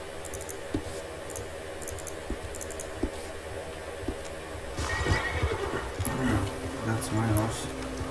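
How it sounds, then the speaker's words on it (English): Horse sounds in the video game Red Dead Redemption 2: soft hoof clops, then a loud, drawn-out whinny with game music and ambience behind it. "That's my horse."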